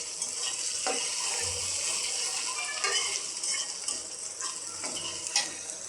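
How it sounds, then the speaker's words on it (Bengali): Local desi onions fry in hot oil for a thin country-chicken curry, giving a steady sizzling hiss with occasional scrapes and clinks of stirring. "পেঁয়াজগুলো তেলে দিয়ে একটু নাড়াচাড়া করলাম।"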